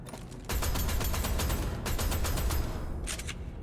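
A weapon in the video game DeadZone Rogue fires a rapid burst of evenly spaced mechanical shots, loud and close. It cuts out briefly, then a shorter burst follows, with no talking.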